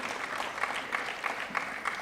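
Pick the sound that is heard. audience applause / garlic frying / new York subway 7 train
audience applause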